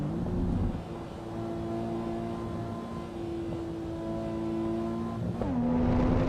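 Racing car engine in Assetto Corsa Evo holding a steady high-pitched drone, then a quick gear shift near the end where the pitch drops and the engine note rises again, loud and continuous with no talking.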